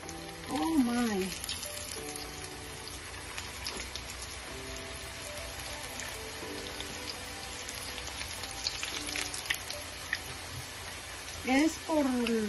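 Tilapia fish empanadas fry in hot oil with a steady, faint crackling sizzle like light rain that runs the whole time, while someone speaks quietly now and then.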